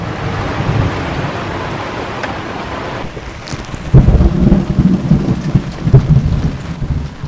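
Heavy rain pours steadily on a sailboat in San Blas while thunder rumbles and cracks nearby, swelling louder in the second half with deep rolling booms.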